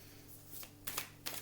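Tarot cards are handled for a four-card draw, with a few quiet, brief riffling swishes and slides of the deck close by in a still room.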